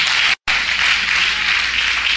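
A congregation at an IPDA Venezuela church service claps loudly, a dense continuous roar of hands briefly cut off near the start before carrying on evenly.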